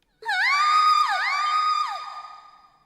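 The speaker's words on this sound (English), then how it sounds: "Scream?" A long, loud scream from the video game Trails of Cold Steel, one sustained wavering cry lasting about two seconds before fading out, heard alone.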